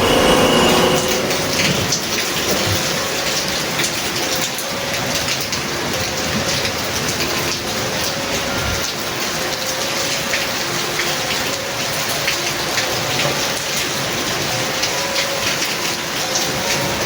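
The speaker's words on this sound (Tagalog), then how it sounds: "bigla umulan" Sudden heavy rain at a forgotten beach resort in Batangas, a dense continuous hiss of falling water and drops on surfaces, loud and close throughout with no talk.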